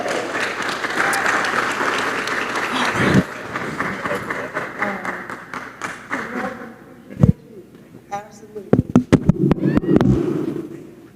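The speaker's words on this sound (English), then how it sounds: "Let's give him a hand clap." Audience clapping for a speaker being welcomed to the stage at a blockchain summit: a crowd's applause swells and holds, then thins into scattered individual claps and a few loud close hand claps near the end.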